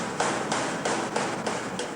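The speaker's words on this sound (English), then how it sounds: "Really just with your hand like that, you're just tapping it round the tube, like that, till it goes in." A part is tapped by hand around a tube during assembly of a Robin Hood Super Spec kit car, giving a run of about six dull, moderately loud knocks at a fairly steady rhythm, close by.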